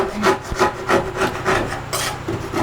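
A hand scraper is drawn repeatedly across a wooden bookcase, producing rhythmic rasping strokes about three per second, close and loud, each a short gritty scrape with brief pauses between.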